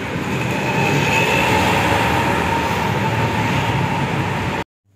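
A Bangalore metro train gives a loud, continuous rolling rumble with a high whine, heard from close by for several seconds before it cuts off abruptly.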